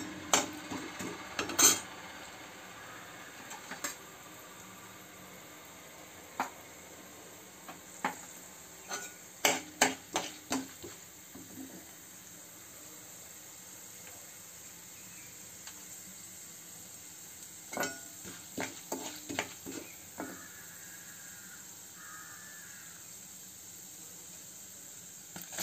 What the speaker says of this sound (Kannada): ಆಮೇಲೆ ಅರ್ಧ ಸ್ಪೂನ್ ಕಡಲೆಬೇಳೆ ಹಾಕ್ಕೊಳ್ಳೋಣ, ಅರ್ಧ ಸ್ಪೂನ್ ಉದ್ದಿನಬೇಳೆ ಹಾಕ್ಕೊಳ್ಳೋಣ.